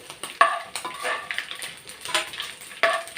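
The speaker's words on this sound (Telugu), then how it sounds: "చక్కగా వేగుతున్నాయండి" Food frying in a pan, with clinks and scrapes of a utensil against the pan over a soft sizzle, close and moderately loud, with no speech.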